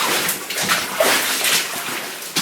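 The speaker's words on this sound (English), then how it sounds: "A lot of water dripping down" Water drips and splatters steadily inside a mine, a dense wet patter of many drops echoing around the tunnel, with no voices.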